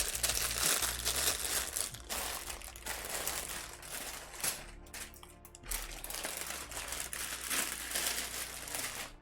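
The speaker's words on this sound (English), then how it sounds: "These are thick plastic bags." Thick plastic bags from a LEGO UCS X-Wing Starfighter set crinkle and rustle continuously as they are handled up close, a steady crackling texture with occasional sharper crunches.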